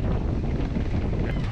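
Strong wind on a sailboat at sea, buffeting the microphone in a loud, constant roar with no talking.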